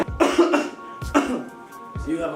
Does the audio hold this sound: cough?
yes